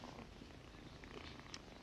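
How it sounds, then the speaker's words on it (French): Steady, close purring of a cat in a film soundtrack, a continuous low rumbling texture lasting throughout without pauses or speech. "si vous tendez bien l'oreille, vous pouvez encore entendre ses ronronnements"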